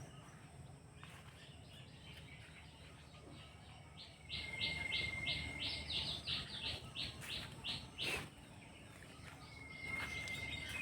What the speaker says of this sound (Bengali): পাখি করে কিচিমিচি